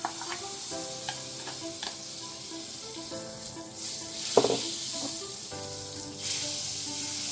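Butter or margarine melts in a pan for Mahamboug, giving a quiet, steady sizzle with a few light utensil clicks over a faint tonal background hum.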